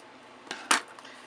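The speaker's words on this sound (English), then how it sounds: "So I'm going to cut right" Paper being cut for a laser print transfer, two short crisp snips close by, the second louder, over a quiet background.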